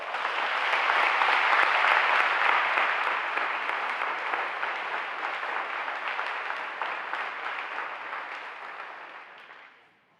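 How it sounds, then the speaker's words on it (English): An audience at a Salute to Seniors recognition ceremony gives the families a sustained round of applause, a dense wash of clapping that swells early, holds for several seconds and then fades out. "Let's give these families a round of applause"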